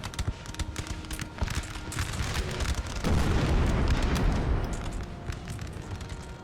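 Cannon and musket volleys rumble through a Napoleonic battle at Aspern in Napoleon: Total War, with scattered crackling shots that swell into a sustained roar of firing midway, loud and layered.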